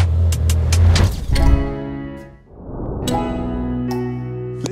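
A heavily tuned Volkswagen Golf R32 with a roughly 1200-horsepower engine revs loud and close. The engine note drops away, then climbs back up in a rich, harmonic howl, with no talking.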